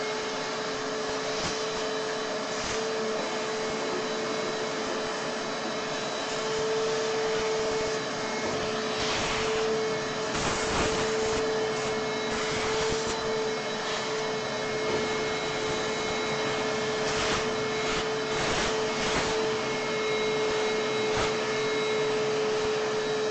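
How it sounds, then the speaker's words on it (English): A shop vacuum runs steadily and loudly throughout, a constant motor whine with a sustained tonal hum as it sucks up wood chips left from CNC machining, with bursts of rattling as debris passes through the hose. "I'm going to turn on the vacuum, the shop vac, clean up some of these"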